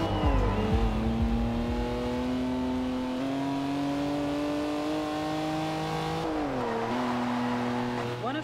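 Engine of a car from the Top Gear car pack in the racing game Forza Horizon 2, droning steadily and loudly as the car drives and accelerates, pitch climbing and gear shifts dropping it, with no talk over it.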